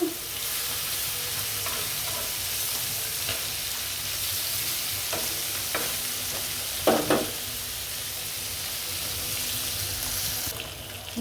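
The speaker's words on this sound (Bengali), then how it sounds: "মাছটা নিয়ে পুরো ভাজবো।" Whole koi fish fries in oil with a steady, loud broadband sizzle for the full stretch, broken by a few brief clatters near the middle and no voices.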